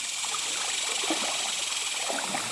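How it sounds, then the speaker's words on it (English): A river stream rushes over rocks through a small chute, a steady broadband wash of flowing water that stays fairly loud and even throughout with no voices. "Just crossing the river."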